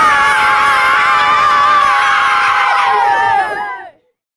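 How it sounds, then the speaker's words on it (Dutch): A group of children cheer together in a loud, sustained shout at a Dutch local event, the bright massed voices holding strong for over three seconds before trailing off sharply into silence. "nog 1 keer met z'n allen juichen dan"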